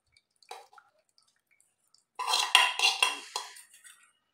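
Homemade hair oil is strained through a strainer in the kitchen: a wet, squishy pour with light clinks of a metal pot and utensil. It starts with a few faint drips, then turns into a louder, close burst of liquid and scraping, with no talking.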